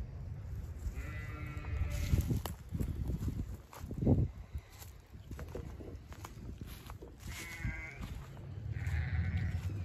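Sheep bleating on a homestead near a barn, several distant, wavering calls scattered across the recording over a low outdoor rumble with faint footsteps.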